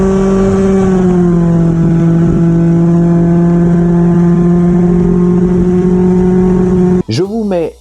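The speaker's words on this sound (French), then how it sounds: "Je tourne la poignée de gaz depuis un départ arrêté, ça part dans les régimes tout de suite à 11 420 tours par minute" A scooter fitted with an Athena 70 kit and 4-gram rollers revs hard from a standstill to about 11,420 rpm, a loud, sustained high-pitched whine that cuts off abruptly near the end.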